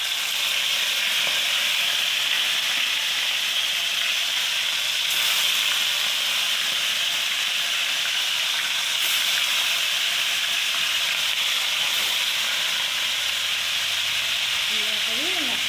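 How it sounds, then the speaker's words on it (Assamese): Fish pieces rubbed with turmeric and salt fry in hot oil, giving a steady, dense sizzle and hiss close by that continues evenly with no pause. "মই মাছ এই ভাজি ল'ম"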